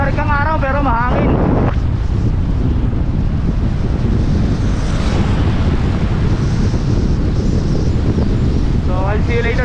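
Strong wind roaring across the microphone while cycling downhill on the Sierra Madre Loop, a loud continuous rush with a brief voice at the start and end.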